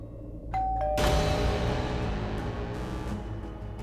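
A doorbell rings with a two-tone ding-dong chime, followed by a loud, sustained burst of dramatic music that swells and fills the rest of the moment.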